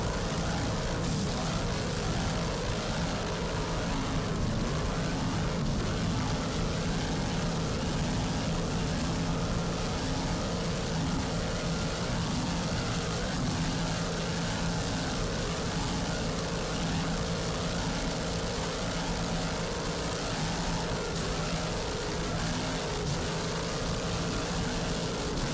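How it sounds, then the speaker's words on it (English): Stotler Racing superboat engines roar during the 2003 Miami Superboat Grand Prix, a continuous broadband distant drone that stays steady and fairly faint for the whole stretch, with no talking. "Just listen to that Stotler Racing engine power."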